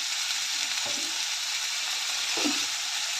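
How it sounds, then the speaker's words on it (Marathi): Onion and tomato with salt sautéing in a pan, a constant close sizzle broken by two spatula stirs, with no voices. "आता मीठ घालून हे चांगलं परतून घ्यायचं आहे."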